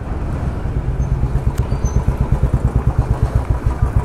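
A motorcycle engine runs close by with a loud, steady throbbing exhaust pulse, the regular beat quickening slightly as it is ridden.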